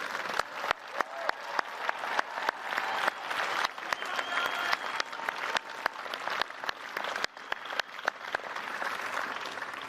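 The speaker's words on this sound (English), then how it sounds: "please join me in a round of applause for" A large crowd at a Bridgewater State University undergraduate commencement applauds the graduates with sustained, loud clapping and scattered sharp individual claps throughout.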